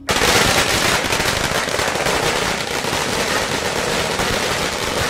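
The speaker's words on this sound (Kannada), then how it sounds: "ಬಿಜೆಪಿ ಕಚೇರಿ ಮುಂದೆಯೇ ಪಟಾಕಿ ಸಿಡಿಸಿ ಸಂಭ್ರಮಿಸಿದ್ರು" A long string of firecrackers bursts outside a political party office during an election victory celebration, in rapid, unbroken crackling, loud and dense from start to finish.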